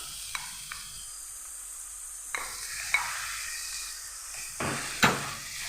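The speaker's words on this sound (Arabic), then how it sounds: "خلاص بعد ما البصله بتاعتي دبلت كده وخدت لون شفاف، هو لون اصفر هادي خالص جميل، هحط اللحمه المفرومه" Minced meat hits a pan of softened, translucent onion and sizzles steadily, with close stirring scrapes and a few sharper hissing bursts as it is turned.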